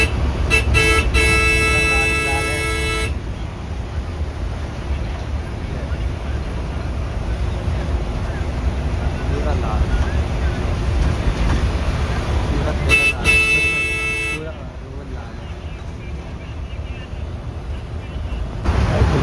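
Riding a bus through city traffic on a trip to Haldwani, with a steady rumbling engine and road noise throughout, interrupted by two loud, sustained vehicle horn blasts at the start and again later.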